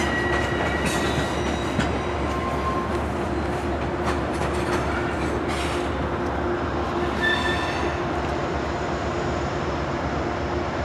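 A Metro North train reverses close by at Croton-Harmon, rumbling and grinding steadily, with a low engine drone and faint wheel squeals over the rolling noise.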